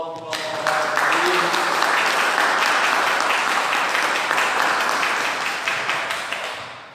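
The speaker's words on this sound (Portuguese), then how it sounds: "Uma salva de palmas." A congregation at a Catholic Mass breaks into loud, dense applause after the Gospel reading. The clapping swells quickly and holds steady for several seconds with a faint voice at the start.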